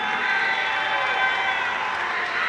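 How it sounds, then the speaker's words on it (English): Audience applause and crowd noise for a fighter at a melee combat championship event with Muay Thai, a steady dense wash of clapping and cheering held at an even level throughout, no speech over it. "Let's get a larger applause"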